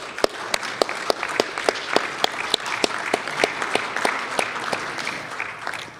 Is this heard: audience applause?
yes